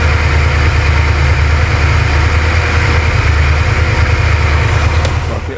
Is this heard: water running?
no